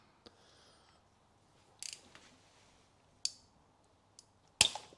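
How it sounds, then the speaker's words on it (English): A ratchet on a spark plug socket and extension bar works a tight plug loose in a 2013 Toyota Aygo 1.0 petrol engine, giving a few sparse, sharp metallic clicks and a louder final crack, close and alone. "So I've got my spark plug socket and extension bar and ratchet."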